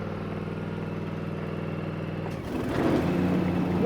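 A Cub Cadet XZ6 zero-turn mower engine running at a steady idle with an even low throb, then a shift about halfway through to a louder, rougher and busier engine sound.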